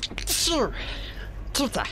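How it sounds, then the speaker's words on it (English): A man playing the Dead Space remake sneezes once, a sharp close burst in the middle of his speech, with game sounds and talk around it. "And I'm about to sneeze."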